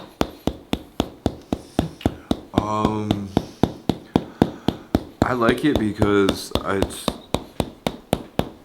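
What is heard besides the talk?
hammer massage tapping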